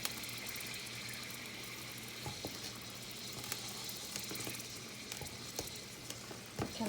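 Butter melting and sizzling in a slightly warped pan on the stove for a homemade roux, a steady soft crackle with scattered small pops, close but fairly quiet.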